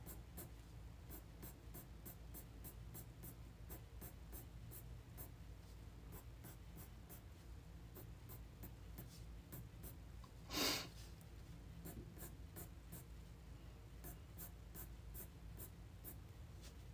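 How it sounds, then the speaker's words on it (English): Colored pencil strokes scratch steadily across paper while a botanical drawing is worked, a close, continuous soft scraping with rhythmic short strokes and one brief louder rustle partway through. "And I'm rotating my pencil as I go every once in a while too"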